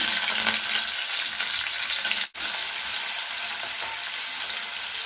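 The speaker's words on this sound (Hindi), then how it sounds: "प्याज को अच्छे से पका लेंगे।" Onions frying in oil with cumin and curry leaves for spiced eggplant, a continuous close sizzle broken by one brief dropout midway.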